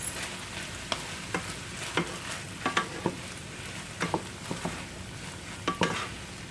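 Mushrooms fry in a hot pan with a continuous sizzle, punctuated by irregular scraping clicks and taps of stirring, close and fairly loud.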